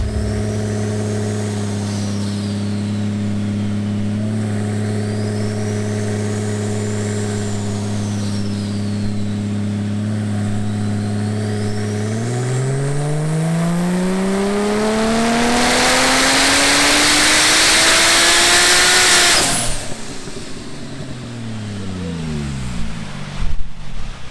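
A Porsche 911 Turbo S engine on a dyno, loud and close, rising in pitch through a long full-throttle pull before cutting off and settling back to a low idle.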